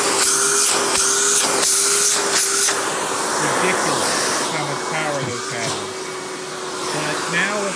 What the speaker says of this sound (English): But now let's turn it up to full power